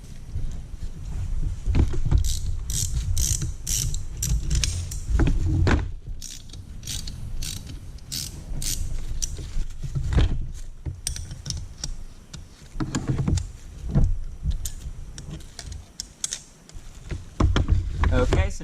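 A ratchet wrench works 13 mm bolts loose on a cheap aftermarket turbocharger, giving bursts of rapid clicking and metallic clatter close up, separated by short pauses, with a voice in places.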